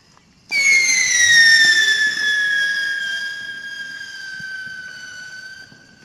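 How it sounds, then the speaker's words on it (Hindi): A big rocket firework at Diwali is lit and shrieks upward with a loud rising whistle that slowly trails off over several seconds, with a faint crackle beneath. "बड़े वाले रॉकेट को जला के देखते हैं कैसा चलता है।"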